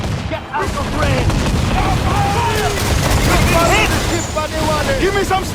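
Cannon volleys in a naval battle video game, heavy booming broadsides and crackling gunfire rolling continuously and loudly, with shouted commands and voices mixed in.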